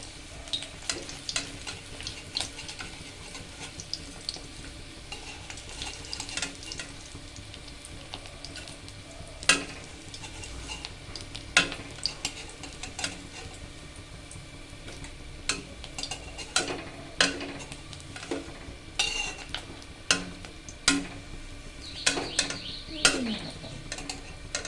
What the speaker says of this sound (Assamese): এয়া মোৰ বৰ্তমান মাছ ফ্ৰাই কৰি হৈ গ'ল।